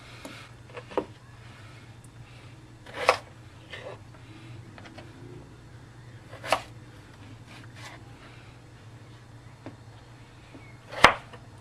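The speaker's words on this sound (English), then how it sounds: "So, cut like this and cut into 4 pieces." A knife cuts peeled potatoes into quarters on a cutting board, giving four sharp, separate chops spaced a few seconds apart over a low steady hum, close and alone with no talk.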